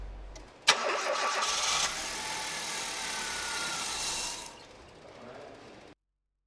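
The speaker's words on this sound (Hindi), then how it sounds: "इंजन स्टार्ट करें तथा तब तक चलने दें जब तक यह अपने आप न रुक जाए।" A car engine is cranked and catches with a sharp burst, then runs loud and steady for several seconds before the revs drop and it quietens to a softer idle, with no talk over it.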